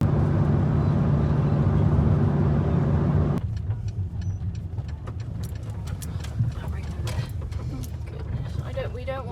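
Car engine running while driving, a steady loud droning hum from inside the cabin that drops abruptly partway through to a quieter rumble with some knocks and rattles, under occasional talking.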